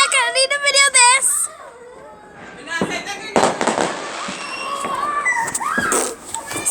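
Fireworks going off outdoors: sharp crackling bursts and pops, some near and loud, scattered over the clip, with a whistling launch at the start and children's voices and a dog's whimpering around the blasts.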